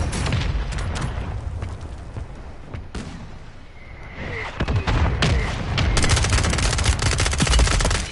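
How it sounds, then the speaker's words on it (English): Video game battle with bursts of rapid gunfire and heavy booms from a thrown mortar, loud and close, building into dense sustained firing toward the end. "They threw a mortar at me."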